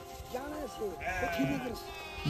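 A flock of sheep being led to graze in snow at a high mountain pass near Rohtang bleats repeatedly in wavering, overlapping calls, close and steady against faint background noise.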